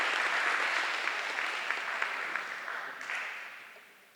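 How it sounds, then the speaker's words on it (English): Audience applause at a middle school eighth grade recognition ceremony, a full, sustained wash of clapping that stays strong for a few seconds and then begins to taper off. "Give her another round of applause."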